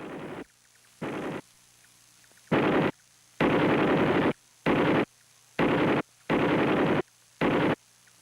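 An M60 machine gun fires in a series of sharp, loud bursts of varying length, roughly eight of them separated by brief silences, with the longer bursts sounding like sustained automatic fire.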